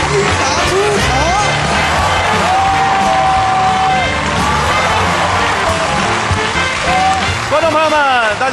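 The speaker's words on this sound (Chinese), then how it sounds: "掌声有请主持人易达出场" A studio audience on a Tianjin TV talk show applauds and cheers loudly and steadily as host Ying Da walks on, with whoops and a bright musical sting rising over the dense clapping.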